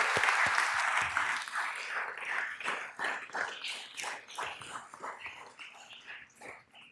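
Audience applause at a community gathering on cash payments for families, a burst of many hands clapping that starts strong and gradually thins and fades over several seconds.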